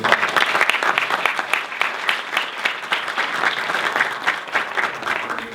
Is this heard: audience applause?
yes